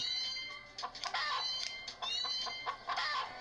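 Cartoon chickens from the arcade game Chicken Shift cluck in a busy, overlapping chorus of short, bright squawks and chirps, repeating in quick bursts over steady game music.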